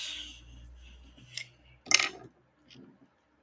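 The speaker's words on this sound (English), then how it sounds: "Get my ribbon scissors." Ribbon scissors snip through ribbon in two or three quick, close cuts with a sharp metallic shearing, separated by brief quiet handling sounds.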